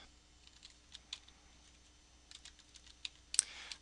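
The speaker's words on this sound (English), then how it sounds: "you type it in exactly how I'm typing it in" Soft, scattered keystrokes on a computer keyboard while HTML code is entered, quiet and close, in irregular bursts with a few pauses and a sharper clack near the end.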